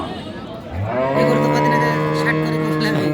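A cow gives one long, loud, close moo at the Aftabganj cattle market, where dry cows and heifers are sold, rising and holding steady over a low background murmur.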